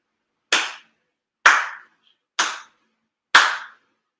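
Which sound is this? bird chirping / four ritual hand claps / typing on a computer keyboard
four ritual hand claps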